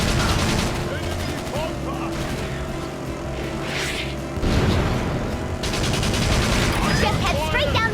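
Sustained volleys of gunfire in the Battalion Wars GameCube game, loud and continuous, mixed with engine and aircraft rumble as voices shout over the battle.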